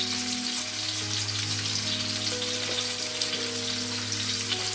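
Chicken cordon bleu fries in olive oil in a pan, making an even, close-up sizzling hiss that holds steady throughout over a faint low hum.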